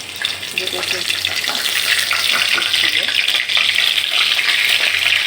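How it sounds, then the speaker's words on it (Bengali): Beans and eggplant with salt and turmeric fry in hot mustard oil, giving a steady, loud, close sizzle that holds evenly throughout with faint kitchen clatter. "এখানে আমরা সরিষার তেল গরম করে নিয়েছি, এটার মধ্যে দিয়ে দিলাম"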